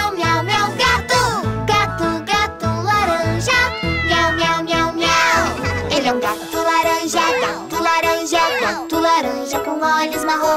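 Cartoon orange cat meowing in a children's song, repeated sung meows over bright jingly music with a bouncy rhythm, loud and up front; the meows are voiced imitations sung within the tune.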